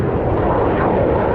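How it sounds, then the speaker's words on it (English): Airplanes flying over near the Mississippi River produce a loud, steady, broadband roar that fills the whole moment without a break. "Excuse the planes."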